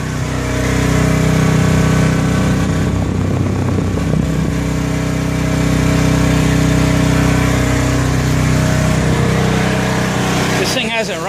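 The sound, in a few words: Honda 4000 watt generator engine running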